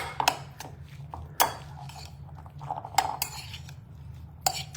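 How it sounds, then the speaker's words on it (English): A spoon stirs ingredients in a dish while cooking a simple dinner, giving sharp metallic clinks and scrapes against the bowl at irregular intervals over a low steady background hum. "Let me get a spoon. Okay, we're gonna stir this yumminess together."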